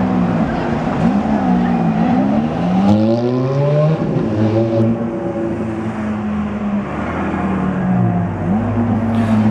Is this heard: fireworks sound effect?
no